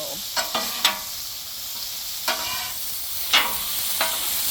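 Shrimp sizzle on a Blackstone griddle as they are turned, giving a steady frying hiss broken by several sharp scrapes and clacks of the spatula at irregular intervals.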